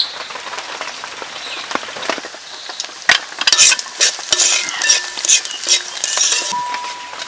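Whole curry leaves, ginger and garlic fry in hot oil while being stirred, giving a loud, steady crackling sizzle with repeated scraping clatters of the spoon against the pan.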